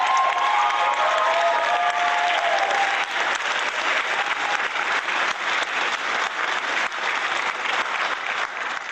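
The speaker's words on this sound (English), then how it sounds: "Please join me in applauding her." Audience applause for the grand prize winner at an awards presentation, a sustained, even roar of many hands clapping close and loud for the whole stretch, with a little cheering at the start.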